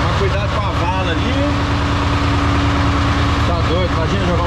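A 1987 John Deere 3140 tractor engine runs close by with a steady, throbbing low rumble, while someone talks over it.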